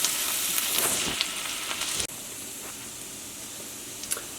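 Onions frying in a pan for an omelet, a soft continuous sizzle and hiss that drops in level partway through, with occasional light clicks, no talk.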